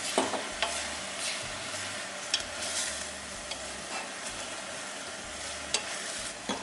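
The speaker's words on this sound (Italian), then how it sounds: "Stiamo mettendo la carne nel resto del soffritto, alziamo un po' la fiamma e amalgamiamo." Minced meat fries in a soffritto over raised heat, a steady soft sizzle with intermittent scrapes and clicks of a spoon stirring in the pan, no voices.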